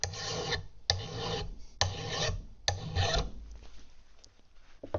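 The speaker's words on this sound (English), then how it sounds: "I'm just going to slide the file along the edge here" A hand file rasps along the edge of a steel lawn mower blade, four even, close strokes about a second apart, then quieter scraping.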